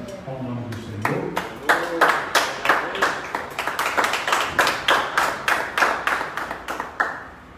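Church congregation standing and applauding in worship, a steady run of rhythmic claps in unison, fairly loud and close, following a short stretch of voice at the start.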